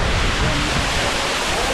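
Balagbag Falls in Quezon gives a steady, loud roar of rushing water that fills the whole clip, close to the microphone, with no break and no voices.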